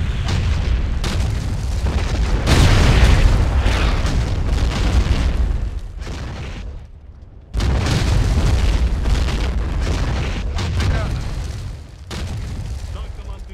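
Heavy artillery explosions in S.T.A.L.K.E.R. with an MWM mod on a Slaviansk frontline map boom repeatedly as deep rumbling blasts, loud and close, with voices talking over them.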